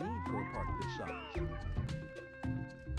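In the Sims Theme Park video game, a cat meows several times in drawn-out, sliding calls over a game music bed, some overlapping, loud and close.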